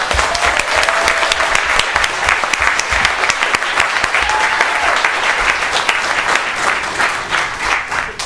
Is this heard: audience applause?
yes